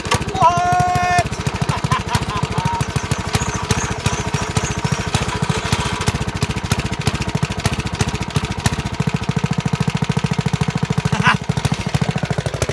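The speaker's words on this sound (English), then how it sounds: "This tiller might be a little moody. It's been a few months since I've started it" A garden tiller engine pull-starts and catches, then runs in a steady, loud, rapid chugging close by with no voices.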